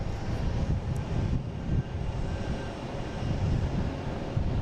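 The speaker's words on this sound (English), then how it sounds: "next coming in, we have a private owner coming in on a Cessna T210M Turbo Centurion" Cessna T210M Turbo Centurion single-engine piston plane coming in to land at Boston Logan, a moderate steady engine drone with gusty wind noise, continuous and fairly near.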